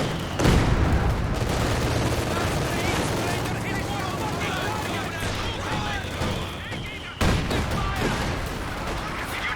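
Cannon blasts and rapid gunfire from a Company of Heroes 2 match crowd a dense, continuous battle din, loud and near, with layered explosions and a sudden sharp hit near the end.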